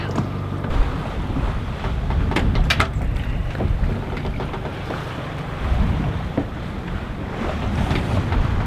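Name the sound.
sailboat motoring at sea under engine power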